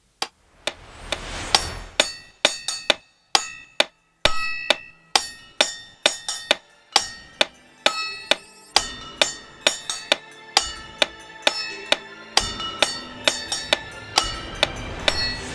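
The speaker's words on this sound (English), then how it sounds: "We've got our metronome, which you can hear." A metronome in Soundtrap ticks steadily at an even tempo, sharp clicks over a busy percussive loop that sounds like pots and pans being struck, the clicks more exposed when the loop drops out.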